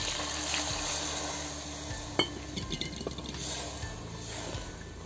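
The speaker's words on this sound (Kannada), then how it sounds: "ಮಸಾಲೆ ನೀರು ಹಾಕ್ತಾಯಿದ್ದೀನಿ" Water poured into a pan of sizzling egg masala curry, giving a soft, steady hiss with faint stirring scrapes and small liquid splashes heard close up, with no talking.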